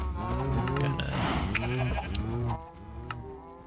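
Minecraft cows in a pen moo in overlapping layered calls, close and fairly loud, several voices at once that thin out toward the end.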